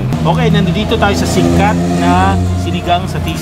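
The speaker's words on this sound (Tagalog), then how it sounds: "naririnig mo yung mga tambutso ng motor, yung ingay ng kotse" Roadside traffic by a busy street-food eatery in Cebu: motorcycle exhausts and car engines rumble steadily in the background while someone talks over them throughout.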